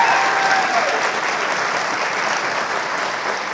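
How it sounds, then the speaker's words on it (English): A studio audience gives a round of applause on a late-night show, a loud, dense burst of clapping that holds steady for a few seconds. "that deserves a round of applause."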